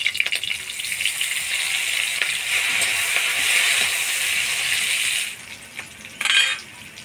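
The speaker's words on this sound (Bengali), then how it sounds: "প্রথমে দিয়ে দেব তেজপাতা, চিড়ে রাখা কাঁচা লঙ্কা, দিয়ে দেব গোটা জিরা" Bay leaf, slit green chilies and whole cumin sizzle steadily in hot ghee for jeera rice, a continuous bright frying hiss that cuts off near the end, followed by a brief clatter of a utensil.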